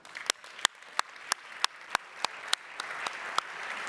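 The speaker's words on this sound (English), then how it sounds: "Please give her a big round of applause." Steady applause from an award ceremony audience at an evening reception, with a dense wash of clapping and a few sharper, evenly spaced claps standing out close by throughout.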